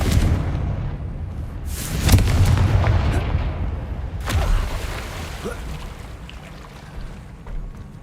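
Fire spell blast in the Hogwarts Legacy video game, a booming explosive burst followed by a second blast and rumbling aftermath, loud over a low game background.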